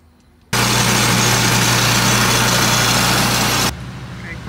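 Gas engine of a power washer cleaning a multi-family house runs loud and steady with a droning hum for about three seconds, then cuts down abruptly to a quieter idle.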